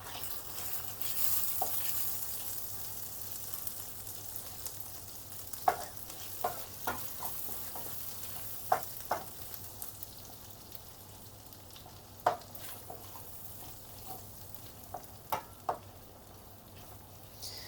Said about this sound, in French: Dès que votre noix de beurre a fondu, je veux pas trop que ça cuise fort.